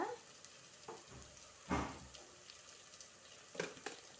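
Beef stir-frying in a pan with curry leaves, pepper and salt for a Sri Lankan beef curry, giving a steady close sizzle with a few louder bursts as the meat is turned, no voices.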